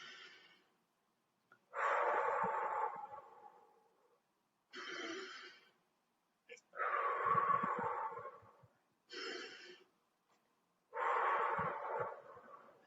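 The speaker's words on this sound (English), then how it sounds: "as we go up, we inhale. And as we come down, we exhale." Slow breaths in and out during a children's resiliency exercise, five long airy exhales and inhales separated by silent pauses, close and clear with no talking.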